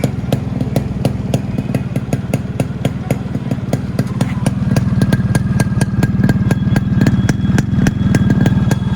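Yamaha RX100 motorcycle engine running steadily and loud up close, with a sharp regular ticking pulse throughout; the engine grows a little fuller and louder partway through as it is revved.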